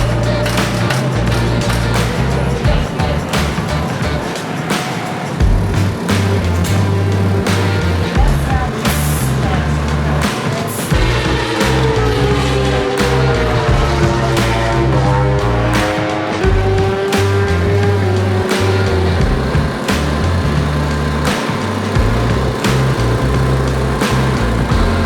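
Kyle Wyman's race motorcycle with a stock swingarm rolls out on track for a shakedown, its engine loud and close, revving up and down in rising surges, with brief voices in between.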